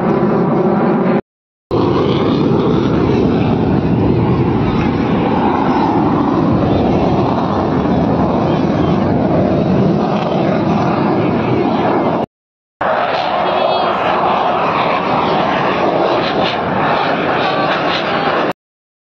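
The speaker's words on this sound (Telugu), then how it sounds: "యుద్ధ విమానాలు ఇంత సౌండ్ వస్తాయని కూడా నాకు తెలియదు" Fighter jets flying overhead produce a loud, close, continuous roar that holds steady for most of the span, broken by two brief cuts to silence.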